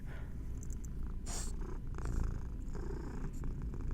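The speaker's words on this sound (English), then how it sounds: "Just purring." A cat in a video game purring steadily and close, a soft continuous rumbling drone with a few faint rustles over it.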